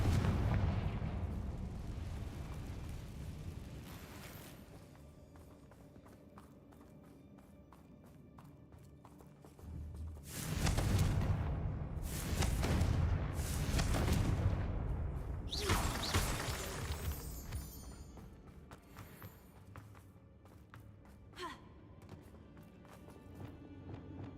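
Confringo blasting-spell explosions in the video game Hogwarts Legacy: a cluster of loud, booming bursts with clattering debris in the middle, set against a quieter rumbling game ambience before and after.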